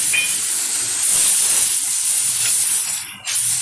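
Water poured onto hot, well-fried masala for an egg curry bursts into a loud, steady steaming hiss, close by and dying down briefly near the end, with no voices.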